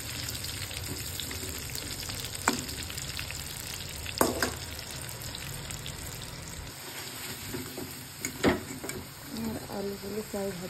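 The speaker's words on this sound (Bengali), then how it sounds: "আলুগুলো প্রায় ভাজা হয়ে গিয়েছে," Potatoes fry in oil left from frying eggs, a continuous soft sizzle punctuated by several sharp spatula scrapes and clinks as they are stirred, with occasional speech in the background.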